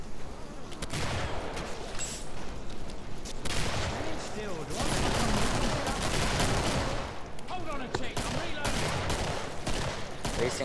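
Rapid gunfire from the Killing Floor video game, with dense bursts of shots firing almost continuously and loudly in the foreground of the game mix.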